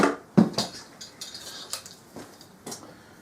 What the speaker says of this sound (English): Now this gives me a threaded hole here that I can put my alignment tool in